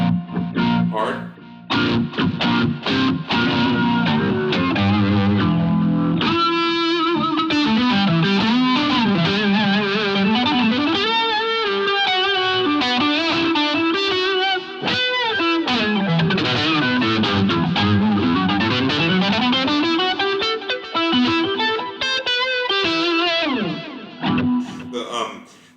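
A guitar played through the organ tone patch on a Boss GT-100 effects unit, giving sustained, swelling organ-like chords and runs with added lower octave tones and distortion, loud and continuous.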